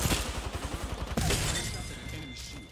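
Gunfire in a match of the video game Apex Legends, a quick series of sharp shots followed by one louder crack and a lingering tail, with sniper fire coming from far away.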